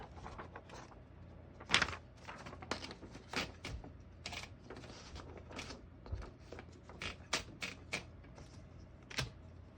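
A 1956 Royal Quiet De Luxe portable typewriter is handled up close, giving irregular mechanical clacks, taps and small rattles of its parts and paper support, some louder snaps, with no voices.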